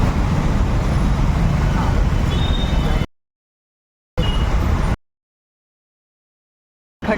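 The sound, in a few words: heavy road traffic noise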